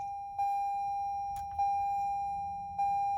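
A car's warning chime sounds as three evenly spaced steady electronic dings, each a clear sustained tone that fades before the next, with faint background rumble while a remote start kit is installed.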